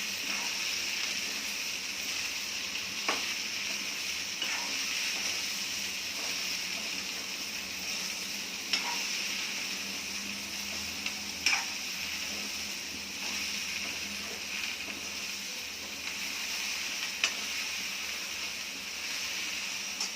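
Okra being fried in a pan with garlic and green chillies: a steady, close sizzling hiss that continues throughout, with occasional faint pops and clicks.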